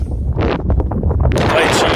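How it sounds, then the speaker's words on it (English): Steady wind buffeting the microphone on King's Seat Hill in the Sidlaws, Scotland, with a constant low rumble and gusty roar, loud and close, with no clear talking. "I hope you can hear this okay, it's very windy."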